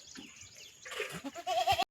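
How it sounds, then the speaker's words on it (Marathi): Goats tied under a tree at a rural settlement bleating nearby, a couple of short wavering calls over faint outdoor background noise, ending abruptly. "ह्या बाबडीच्या झाडाखाली काही शेळ्या बांधल्यात"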